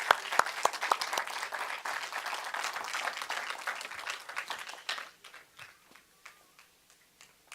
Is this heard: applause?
yes